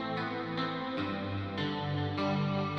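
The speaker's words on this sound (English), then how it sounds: "We've just got a lot of reverb on this because this is helping create the atmosphere." Picked guitar notes ringing out one after another, each blooming into a long, washy reverb tail that blurs into the next.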